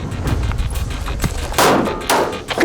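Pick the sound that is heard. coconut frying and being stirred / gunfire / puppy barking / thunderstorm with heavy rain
gunfire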